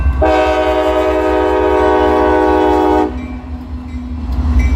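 A CSX freight train led by a freshly rebuilt AC-44 locomotive sounds a long, loud multi-tone horn blast for about three seconds, then the steady rumble and rolling of the passing train continues close by.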